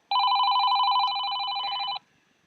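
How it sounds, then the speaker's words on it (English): A mobile phone rings with a single continuous electronic trill lasting about two seconds, close and loud, then cuts off into near silence. "my phone's ringing."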